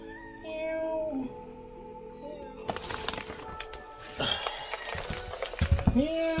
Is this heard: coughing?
no